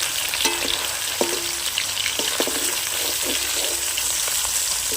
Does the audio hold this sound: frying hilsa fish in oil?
yes